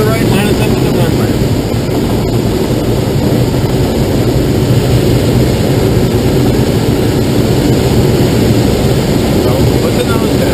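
A loud, constant propeller airplane engine drones through a cockpit on a landing approach to the runway, with no break in the roar.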